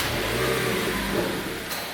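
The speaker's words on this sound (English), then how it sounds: "So I'll start it up now. So I have little revs here." A car engine runs close by with gentle revs that rise and fall over a steady low hum, ending in a brief faint high whine.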